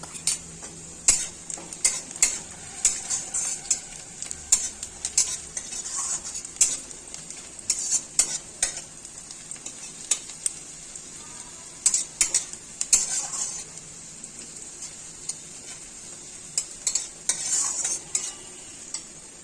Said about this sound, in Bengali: পেঁয়াজগুলো ভাজা ভাজা হয়ে গেছে। এখন এমন সময় যে আদা, জিরে, ধনে, শুকনো লঙ্কা এটা বেটে নিয়েছি, এখন এটা দিয়ে দিব।